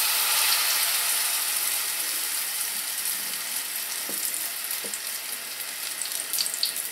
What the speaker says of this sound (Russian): И слив лишний кляр, я отправляю в сковороду.